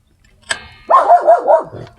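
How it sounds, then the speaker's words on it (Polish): A single dog barks nearby indoors, one sharp bark followed by a quick run of four yappy barks, loud against a quiet background. "piesek znowu ma coś do powiedzenia"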